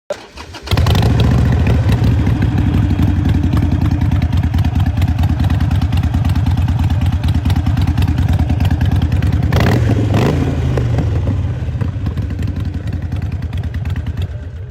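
A fuel-injected Harley-Davidson Sportster 883XL engine idles with a deep, steady, close rumble, thumping evenly throughout, with a brief rise partway through before settling back.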